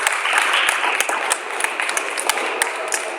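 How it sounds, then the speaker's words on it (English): A crowd at a junior high girls' basketball game applauds with scattered claps and a few sharp pings, steady and fairly loud across the gym. "Nice ovation from the Central City crowd"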